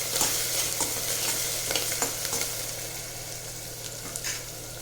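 Finely chopped garlic and coriander stirred together in a pot: a steady low sizzle under repeated scraping and clinking stirs of a spoon, close and moderately quiet, with no voices.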